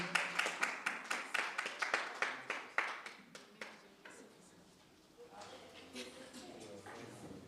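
An audience claps for a woman from the Comoros at a Franco-Anglo exchange program event, dense clapping fading over several seconds into room murmur and a few scattered claps.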